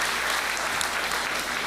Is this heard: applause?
yes